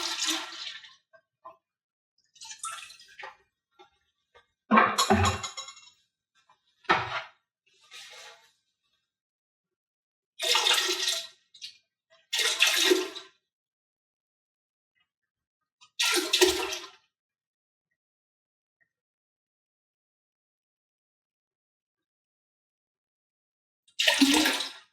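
Isopropyl alcohol poured into a Shining 3D FabWash tank in separate gushing bursts, each a few seconds long with silent pauses between, close and clear.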